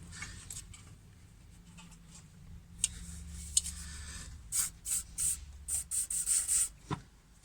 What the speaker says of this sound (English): So I'm going to spray it up, leave it for a second